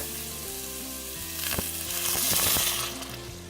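Onion sizzles steadily in hot oil in a pan for browned onion and cumin rice, with soft scraping and stirring sounds growing louder midway before easing off.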